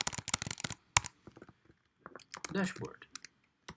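Computer keyboard keys tapped in quick irregular bursts while typing a web route into a React app, with someone talking over the clicking.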